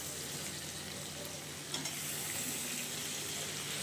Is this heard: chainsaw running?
no